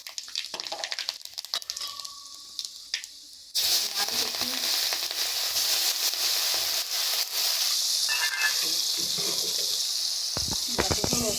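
Panch phoron spices hit hot oil for a rohu fish curry with papaya: after a quiet start a sudden loud sizzling hiss bursts up and holds steady, with clattering near the end.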